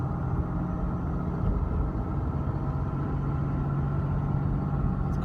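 A 2011 Dodge Ram diesel truck engine hums low and steady while driving, a continuous moderate rumble with road noise and no clear spikes.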